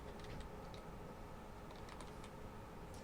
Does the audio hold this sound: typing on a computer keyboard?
yes